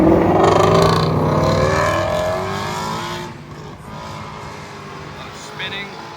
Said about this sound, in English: That GT350 sounded pretty good